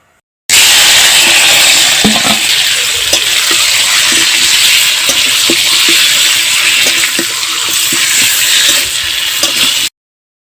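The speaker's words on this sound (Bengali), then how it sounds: "এবার আমি মাংসগুলো কিছুক্ষণ নেড়ে নিব।" Marinated local chicken sizzles in a pan with browned onions while being stirred; a loud, steady frying hiss runs throughout, broken by scattered scraping clicks from the stirring.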